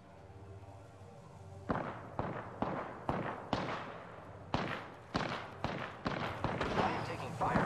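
Bursts of incoming gunfire in a shooter video game, a dozen or so sharp cracks in an uneven rhythm, close and fairly loud over a low background hum.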